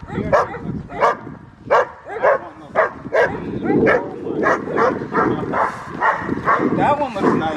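A Doberman and a Great Pyrenees bark on a trail, a string of loud, sharp, irregular barks and yips close by, mixed with people talking.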